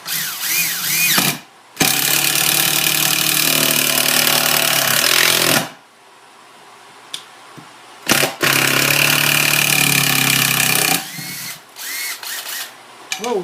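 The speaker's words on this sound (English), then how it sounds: "I own a Makita Impact screwdriver that works just fine, and it comes with a battery." A Makita battery impact screwdriver drives a 3-inch star drive screw in two long, loud, rattling hammering bursts, the first about four seconds and the second about three, separated by a pause with small knocks.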